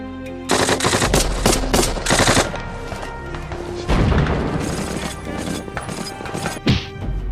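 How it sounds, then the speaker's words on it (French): A German machine gun nest on D-Day fires rapid, loud bursts that give way to sustained heavy gunfire with crashing impacts and deep booms throughout. "Le nid de mitrailleuses allemand"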